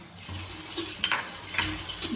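Dry-roasted ground coriander and cumin being stirred into a bottle gourd and egg curry: quiet, soft sizzling with a few light scrapes and clinks of the spoon against the pan over about two seconds.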